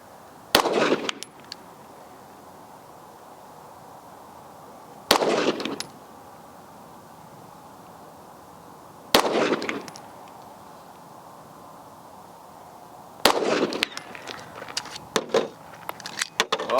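Shots from a Daniel Defense H9 pistol ring out at a range in four loud bursts, a single round or a quick string each time with short echoing tails, the last burst a rapid run of shots.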